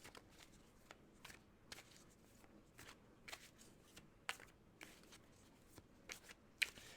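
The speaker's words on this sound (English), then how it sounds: "We're going to shuffle these cards." Quiet, repeated riffling of a tarot card deck being shuffled, soft crisp bursts at a steady rhythm with faint background hiss.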